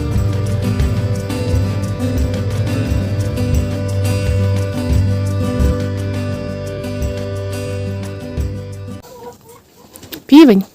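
A Cochin hen clucks near a nest among other farm chickens, with repeated low clucks over a busy, continuous backdrop, ending with a brief louder call.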